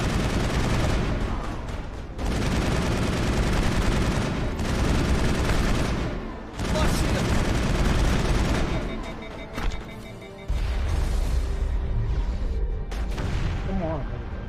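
Sustained heavy gunfire in a Mass Effect firefight, dense and loud, rattling in long bursts with a few brief pauses before resuming.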